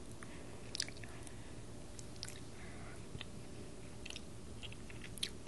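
Someone eats cold grilled hairtail fish, with soft close chewing and a few sharper bites and smacks spread over several seconds against a low steady background hiss.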